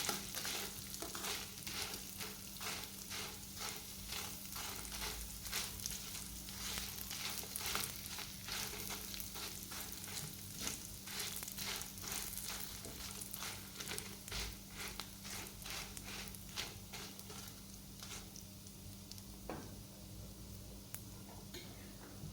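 Urad dal and Byadagi chillies fry in oil in a pan for a Mangalore-Udupi-style pineapple menaskai, a steady close sizzle with light scraping and ticking from stirring throughout, no talking.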